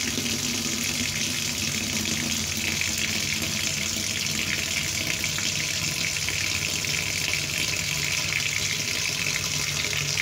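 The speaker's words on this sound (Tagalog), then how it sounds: "Tapos lagyan natin siya ng tubig." Water runs from a tap to soak cut hydrangea flowers, a constant, fairly loud rushing stream that never lets up and has no talk over it.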